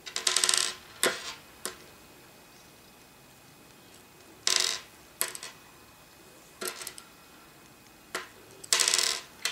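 A magnetized screwdriver tip picking up screws makes several short, bright metallic clicks and taps, spaced irregularly across a quiet background.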